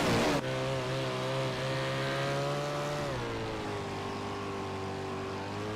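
Dirt sprint cars race at Knoxville, their engines roaring loud and steady with high sustained revs that dip as the pitch drops partway through, no voices over the din.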